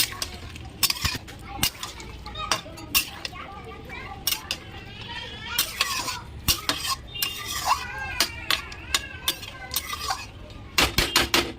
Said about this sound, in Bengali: দেখুন ভালো করে মাংসটা মিশিয়ে দিয়েছি